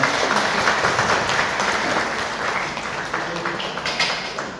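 A lecture audience at a party members' day event gives a thick, sustained round of applause to close a talk. The clapping is loud and even throughout and gradually thins toward the end.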